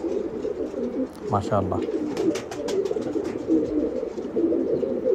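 Flying pigeons, a dark-coloured bird among them, give a short, close double coo, one low throaty burble heard over a steady background hum while someone speaks briefly nearby.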